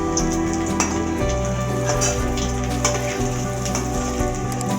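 Crispy potato bites frying in oil until golden, a loud dense crackle and bubbling sizzle with scattered popping spatters, continuous and close throughout.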